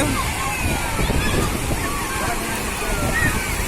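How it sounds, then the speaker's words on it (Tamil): Surf washing onto Velankanni beach gives a continuous sloshing roar of waves with wind buffeting the microphone, while people talk over the water throughout. "எப்படி அலை எப்படி அடிக்குது பாருங்க"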